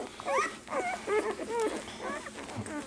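Puppies whimpering and yipping close by, a series of short, high, wavering whines in quick succession with no talk.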